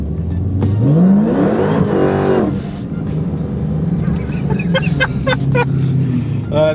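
A 1000hp Dodge Hellcat doing rolling burnouts on a highway, loud and close: the engine revs and climbs in pitch, then sharp tire squeals cut in over a sustained roar, with voices in the background.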